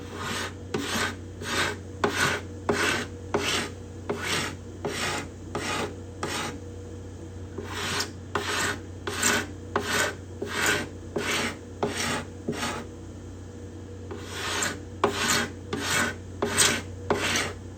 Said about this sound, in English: And going to start off with this scraper.